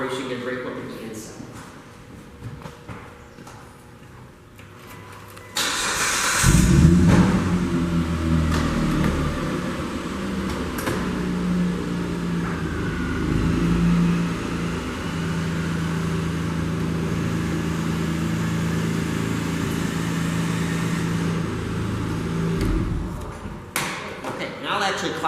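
The power convertible top of a 2003 Mitsubishi Eclipse Spyder lowers from inside the car: a thump, then a steady electric motor whine and mechanical hum for about seventeen seconds before cutting off, heard up close.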